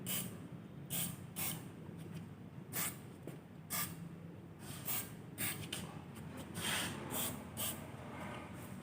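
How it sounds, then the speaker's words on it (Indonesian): Repeated short bursts of aerosol brake cleaner spray hiss close by onto a sanded surface, about a dozen quick squirts at uneven intervals. "lalu kita semprot dengan menggunakan fluid brake di bagian yang sudah kita amplas tadi"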